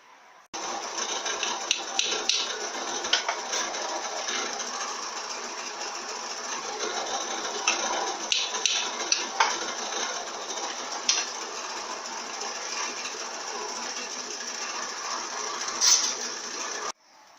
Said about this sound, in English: I'm going to drill 2 more holes like that.